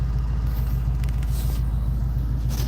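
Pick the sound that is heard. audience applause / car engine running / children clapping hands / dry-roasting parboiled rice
car engine running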